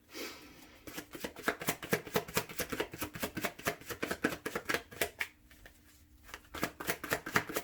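Tarot cards shuffled by hand close up: rapid rhythmic riffling bursts in repeated runs with brief pauses, quiet and alone.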